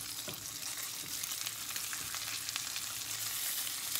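Bacon frying in a pan, a continuous crackling sizzle with small pops throughout, close and fairly loud, with no voices.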